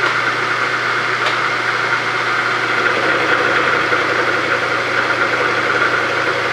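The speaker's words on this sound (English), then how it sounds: "we have the mill set to 660 RPMs" A milling machine set to 660 RPM runs with a steady mechanical drone and a faint knocking hum. The sound holds at an even, fairly loud level throughout, with no talking.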